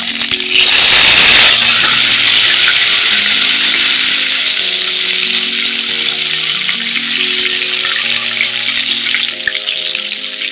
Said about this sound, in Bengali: কড়ার তেলটাও হয়ে গেছে আমি পটলগুলো দিয়ে দেবো